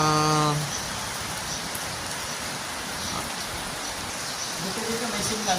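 Steady rain falling at a mountain farm resort, a constant dense hiss of drops on surfaces that fills the whole stretch, with a brief tonal sound at the start.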